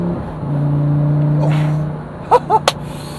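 Lamborghini Gallardo engine in Dubai, a steady low hum that swells slightly, then a quick series of sharp revving blips on a downshift, loud and close.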